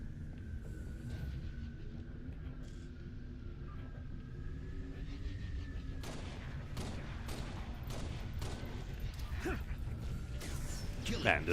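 Video game firefight with bursts of gunfire and sharp shots cracking over a low rumble, growing busier toward the end, with someone talking over the action.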